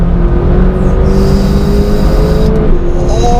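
A McLaren 570GT's engine roars loudly and steadily close up as it accelerates hard in fourth gear on a volcano road, the pitch climbing continuously with no talking.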